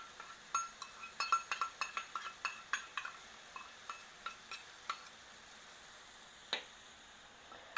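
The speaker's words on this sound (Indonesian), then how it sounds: "lalu kita aduk sebentar" A spoon stirs sweet and salty soy sauce in a pan for sekba, producing a quick run of light scraping clinks that slow and fade out, with a soft sizzle underneath.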